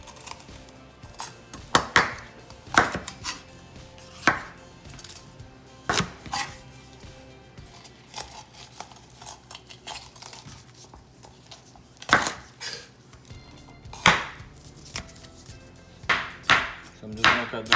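A knife cuts onions and peppers into thin strips on a board, giving sharp, close chopping knocks in irregular bursts with short pauses between strokes.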